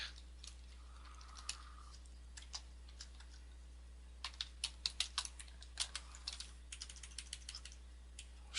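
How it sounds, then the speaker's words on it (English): Soft, close keystrokes on a computer keyboard, a few scattered taps first and then a faster irregular run of clicks over a faint steady hum, no voices. "And then you would type some stuff"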